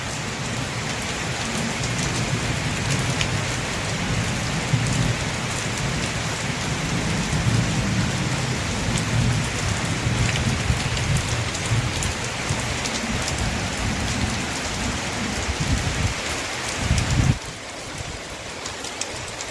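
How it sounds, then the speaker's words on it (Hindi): Heavy rain pours steadily while deep thunder rumbles roll underneath, loud and continuous, easing slightly near the end. "अब देखते देखते कितनी तेज़ शुरू हो गई बारिश।"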